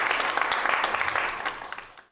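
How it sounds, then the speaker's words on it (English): An audience applauds a panel at a gun safety and suicide prevention forum, with steady, dense clapping for about two seconds before it quickly fades out. "So a collective round of applause for this incredible panel."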